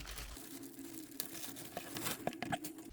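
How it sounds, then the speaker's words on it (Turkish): Crinkling and tearing of packaging as a SteelSeries Arctis 3 headset box is opened, with a few sharp cracks and rustles, close by, over a low steady hum. "Hızlıca kutusunu açalım."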